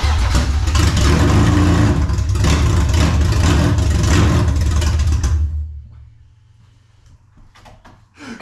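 A rebuilt BMW M52B30 inline-six engine fires up for the first time and runs loud and close, with a rough roaring idle and revs for about five seconds, then drops off sharply to near quiet.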